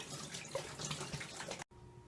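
Tap water gushes into a growler being rinsed and filled for homebrewed hard apple cider, a close, splashy rushing that cuts off abruptly near the end and leaves a quiet room hum.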